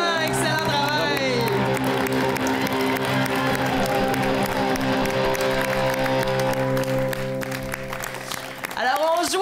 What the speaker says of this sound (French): on les applaudit plus fort que ça, les deux équipes